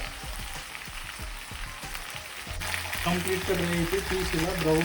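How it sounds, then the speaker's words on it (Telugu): Chicken curry pieces fry in a pan while being stirred, a crackling sizzle with spoon scrapes, which are clearest at first and then sit under a voice talking. "ఇలా మిక్స్ చేసుకుంటూ ఫ్రై చేసుకోవాలి"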